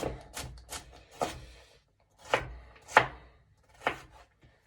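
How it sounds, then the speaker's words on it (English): A knife chops through vegetables, quartered pieces and carrot, on a cutting board in a home kitchen: about six sharp, close chopping strikes come in two loose clusters with short pauses between. "Just quickly chop up these"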